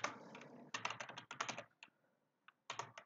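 Quick bursts of typing on a computer keyboard, clustered keystrokes with short pauses between groups, close and fairly quiet.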